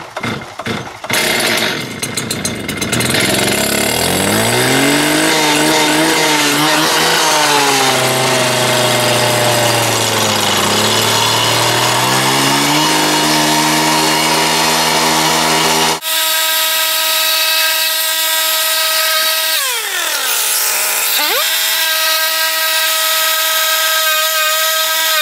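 A power saw runs loudly in a home workshop: a motor spins up, holds a strong whining drone with shifting pitch, briefly dips, then settles into a steadier high hum. No one speaks over it.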